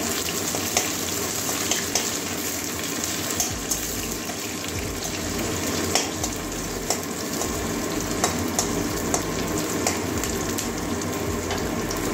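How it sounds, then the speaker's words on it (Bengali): Chopped onion and green chilli fry steadily in a pan for a cauliflower dish, giving a continuous close sizzle with occasional faint clicks and no talking. "এবারে পেঁয়াজ কুচি, পেঁয়াজ কাঁচা লঙ্কা কুচি দিয়ে দিচ্ছি। পেঁয়াজটা ভেজে নেব।"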